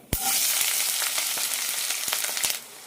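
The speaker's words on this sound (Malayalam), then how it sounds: "ഉഴുന്ന് ചോക്കാൻ തുടങ്ങിയിട്ടുണ്ട് ഈ സമയത്ത് ഇതിലേക്ക് സവാള അരിഞ്ഞതും രണ്ട് പച്ചമുളക് ഇടാം" Urad dal, chopped onion and green chilies frying in a pan for vermicelli upma, a bright steady sizzle with several quick stirring knocks across a few seconds.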